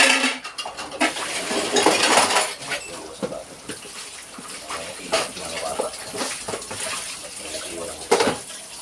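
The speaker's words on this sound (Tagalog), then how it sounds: "After kumain na idol, hugas naman ang plato" Plates and dishes clink and clatter while being washed under running water, close and busy with irregular knocks, and a voice talks faintly in the background.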